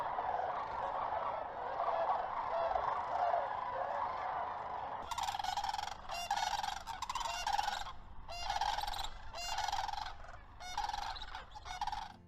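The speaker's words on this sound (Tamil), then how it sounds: "அமெரிக்காவின் அலபாமா மாகாணத்தில் ஆயிரக்கணக்கான கொக்குகள் இடம்பெயர்ந்து வந்திருப்பது" Flock of sandhill cranes in Alabama, a steady chorus of many birds calling together, then louder bursts of honking, rattling calls breaking through in repeated waves close by.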